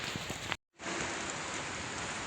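Heavy rain falling on a street in Kyiv, a steady close hiss of drops on surfaces that cuts out for a moment and then resumes just as dense.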